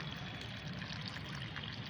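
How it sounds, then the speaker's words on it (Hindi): Water is poured into a homemade plant fertilizer mix, giving a steady, continuous splashing gush without any talking. "इन दोनों को मिलाकर इसमें हमें डालना होगा पानी।"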